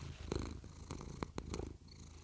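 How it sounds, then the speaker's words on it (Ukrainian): Domestic cat purring close to a handheld microphone, a steady low rumbling purr running throughout with a few soft brief rustles, no talking. "Ану помурчи."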